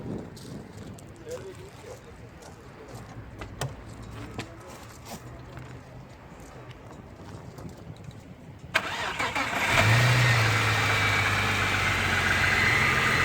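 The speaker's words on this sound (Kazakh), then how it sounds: "Биринчи эле оталдырганда эле машина жүрдү, көрүп турасыздар." An Audi A6 engine cranks and catches about two-thirds of the way through, then settles into a steady, fairly loud idle, with quieter talk and background noise beforehand.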